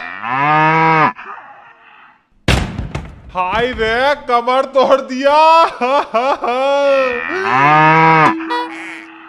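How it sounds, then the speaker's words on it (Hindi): A buffalo moos in long, loud, drawn-out calls inside a house, with people shouting and talking excitedly over and between the calls. "भैंस भाई साहब बचाइए मुझे भैंस से बहुत डर लगता है"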